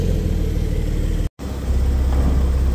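A 2024 Porsche 911 Carrera engine in sport mode, heard from the convertible with the top down, gives a deep steady rumble with a brief cut, then a low-pitched rise suggesting light revving.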